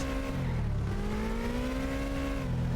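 A car in the My Summer Car game drives past with a steady engine tone that rises and shifts in pitch, loud and close for the whole stretch.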